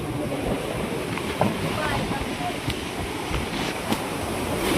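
Strong sea waves at Mauban, Quezon, a constant churning wash of surf with wind noise and a few brief sharper splashes, heard close and alone.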